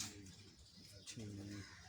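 Pigeons cooing from a rooftop loft in Jhelum, low rolling coos repeating in a steady pulse, close and fairly loud, with background noise around them.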